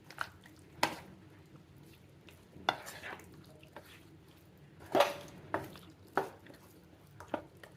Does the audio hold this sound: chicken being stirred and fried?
yes